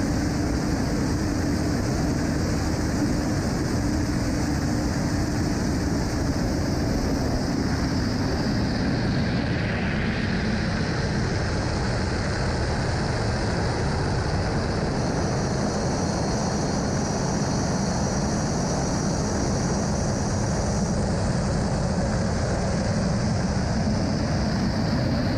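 Aircraft fly over during the pre-race plane show at the Giro d'Italia start, a steady, loud broadband roar that holds for about twenty-five seconds, with a higher whine swelling in partway through and no voices.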